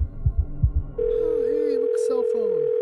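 A cell phone rings in the horror video game The Evil Inside, a steady electronic tone that starts after a few low heartbeat thumps and carries on, loud and close, with warbling tones layered over it.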